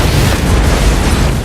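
A ship's engine blowing up aboard the Arctic Warrior in the film Ghost Ship, a loud, sustained roaring blast with heavy low rumble filling the whole moment without a break.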